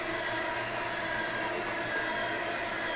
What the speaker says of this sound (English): Looks like we've got a loaded ethanol train going east here.